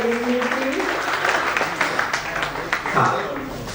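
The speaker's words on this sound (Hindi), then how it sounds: "एक बार इनके पिताजी के लिए तालियां दें" Audience clapping at an IAS felicitation function, honouring a guest's father: a broad, sustained patter of many hands, moderately loud, with a voice faintly talking over it.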